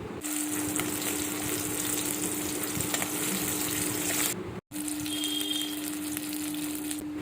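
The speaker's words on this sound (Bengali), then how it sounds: "নুন হলুদ মাখিয়ে রাখা মাছগুলো একে একে ভেজে নিচ্ছি" Salted, turmeric-rubbed katla fish pieces fry in hot oil with a steady, dense sizzle throughout, near and fairly loud, broken by one brief silent cut.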